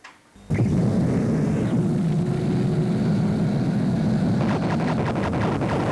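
Animated cartoon spaceship lifting off under enemy fire: a sudden loud roar surges in after a brief quiet start and holds steady, with rapid crackling bursts layered over it toward the end.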